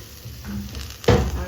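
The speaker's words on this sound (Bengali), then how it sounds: "তো দেখো এখানে হচ্ছে পেঁয়াজ কালি ভাজা" Onions with kalonji fry in a pan at home, a soft sizzle with a sharper burst of frying and utensil clatter near the end.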